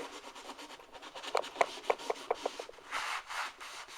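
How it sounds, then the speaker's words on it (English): Cloth rubbing paint into the corners of wood: a close, dry scraping rasp in short repeated strokes, quiet at first, then brisker and more distinct, ending in a longer broad swish, with no talk. "you want to use this cloth as also to rub it into the corners as well"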